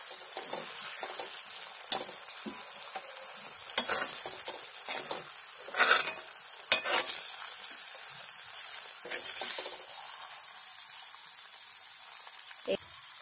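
Homemade chicken curry with a thick gravy is stirred and spooned out of a pan after the gas is turned off, giving soft wet scrapes, faint sizzling and occasional light clanks of a spoon against metal.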